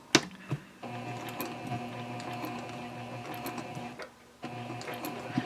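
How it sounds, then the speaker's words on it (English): A sewing machine stitches across a tote bag handle and back stitches over a stress point, producing a steady mechanical whirring hum that stops briefly and then resumes, close and moderately loud. "I'm going to sew across, and right here I'm actually going to back stitch over that"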